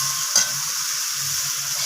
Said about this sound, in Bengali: এরপর এখানে আমি দিয়ে দিচ্ছি ভেজে রাখা আলুগুলোকে